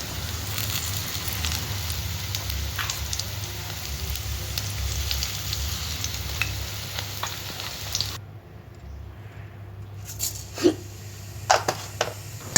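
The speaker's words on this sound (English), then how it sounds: "She added some kalonji, salt and turmeric powder in the paste and fried them into fritters." Red lentil and chana dal fritters fry in hot oil with a steady crackling sizzle for about eight seconds, then the frying cuts out, leaving scattered faint clinks and taps.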